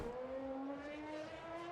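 A high-pitched Aston Martin Valkyrie engine in the racing game Le Mans Ultimate whines steadily with rising and shifting tones, loud and continuous, at speed around the Portimão circuit.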